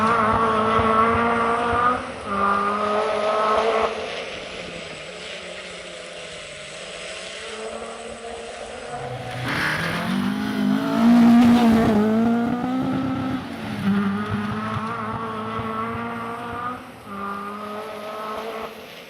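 A rally car on a forest stage of the Carlisle Stages, the engine revving hard through gear changes, rising and falling as it passes close by, with a loud surge midway before fading.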